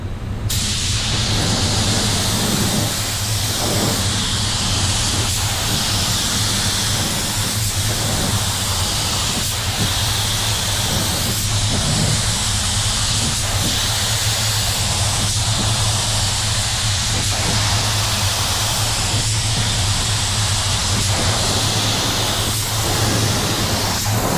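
Spray gun laying a fast first coat of paint from six to eight inches away, fan fully open: a continuous loud hiss runs without a break for the whole stretch, with faint pauses and shifts in tone.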